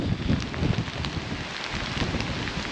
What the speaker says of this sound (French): C'est la tempête. La tempête, la tempête.